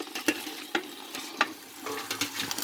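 Chicken noodle soup ingredients are tossed and browned in a soup pot, with a sizzling fry and repeated scraping stirs and clinks at an uneven rhythm, close and moderately loud.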